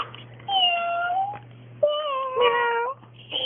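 A cat meows twice in close succession, each call long, drawn out and clear, loud and near against a faint hum.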